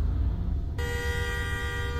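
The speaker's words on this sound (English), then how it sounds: "Who's honking?" A car horn sounds in the driving video game Ultimate Driving, a sustained steady honk that starts partway in and holds to the end over a low engine rumble.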